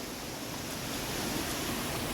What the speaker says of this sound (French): Et puis il y a des petites cascades là, des cascadounettes.